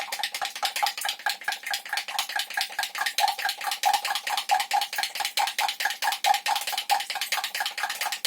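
Homemade cream stirred in a bowl with a utensil gives a steady run of light scraping and clinking taps, close and continuous, with no voices.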